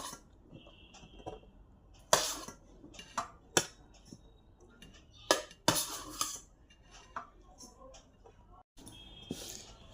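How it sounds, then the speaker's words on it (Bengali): Rice being served onto plates in a home kitchen, with scattered clinks and scrapes of a spoon against dishes, several sharp louder knocks of utensils, and faint background noise between them. "মেয়ের আমার ভাতটাও বেড়ে নিই।"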